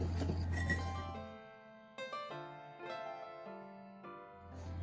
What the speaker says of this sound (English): And a whisk. And we're going to whisk this together.